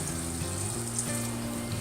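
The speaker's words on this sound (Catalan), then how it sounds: "Ho posarem a fregir a una temperatura mitjana perquè ens quedin fetes però ens quedin toves." Sliced potatoes for a Garrotxa-style Olot potato dish fry in oil at medium heat, giving a steady, close sizzle over a constant tonal background hum throughout.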